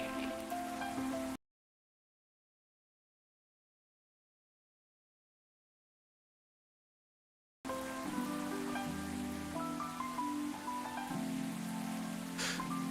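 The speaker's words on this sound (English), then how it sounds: "It seems like it's raining even more." Steady rain patters on surfaces in the coffee-shop game Coffee Talk, mixed with soft background music, cutting out to complete silence for several seconds before the rainfall returns.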